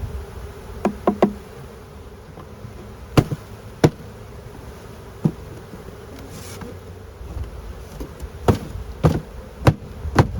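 A swarm of honeybees files into a hive entrance, a soft constant buzzing drone under repeated sharp knocks and taps from the wooden box scattered through.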